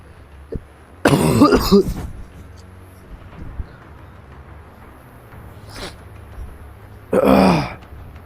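Two separate bursts of harsh coughing, one early and one near the end, with a faint brief cough between them against quiet outdoor background.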